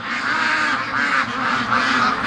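Free-range ducks quacking and honking near a lake, several birds calling in rapid overlapping bursts, loud and close with no talking.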